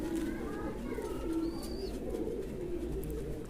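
Domestic pigeons in a loft coo steadily and close by, low repeated rolling calls over a continuous background hum, with a brief higher chirp partway through.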